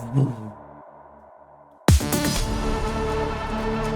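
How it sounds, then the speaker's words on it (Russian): A loud, sudden impact hit lands after a quiet, sparse stretch, bursting into a dense, bright electronic wash that sustains as the melodic techno track transitions. "Для перехода, конечно же, импакт,"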